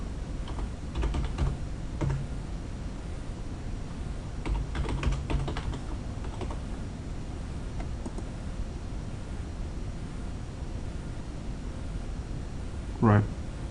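Computer keyboard keys tapped in scattered bursts while a username and password are entered, fairly close and moderately loud over a steady background hiss, with a brief louder knock near the end.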